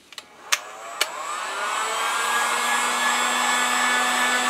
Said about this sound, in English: A little shot of heat gun.